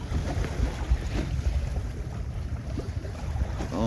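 Wind buffeting the microphone and choppy sea slapping around a sailing canoe off Plymouth Sound, a constant low rushing roar with occasional small splashes and no talk.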